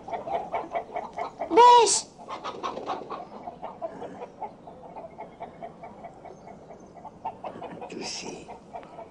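Chickens cluck continuously in a farmyard, a busy chatter of short clucks with a loud squawk early on, while a person briefly shouts over them.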